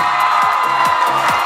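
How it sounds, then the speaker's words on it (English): A large crowd cheers and whoops for the College of Nursing at a school choral contest, a brief, loud, dense roar of voices without a break. "Can we have a big cheer from the College of Nursing?"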